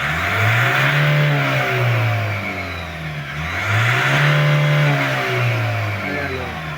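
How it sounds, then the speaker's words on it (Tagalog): A Ford car with erratic RPM and rough cold-start idle revs repeatedly, its mid-pitched engine rising and falling in two long, loud swells close by, with no talking. "rev natin kung may power."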